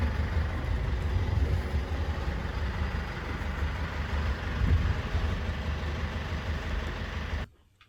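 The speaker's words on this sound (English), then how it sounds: "I'm just running the engine for a bit" A boat's inboard engine idles at a steady low rumble, close and constant, with no voices over it, until it cuts off abruptly at the very end.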